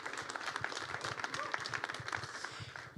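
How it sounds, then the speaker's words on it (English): A small audience at a startup demo day applauds a participant, fairly quiet scattered clapping with individual claps picking out from the wash. "Yeah, applause for Haley."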